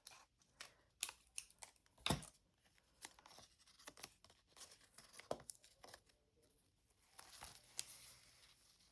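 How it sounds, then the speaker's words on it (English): Paper snipped with scissors while assembling a junk journal page, a series of short crisp cuts and rustles with a louder burst near the start and more crinkling toward the end, close and fairly quiet with no talk. "I'm going to cut a little bit more off here"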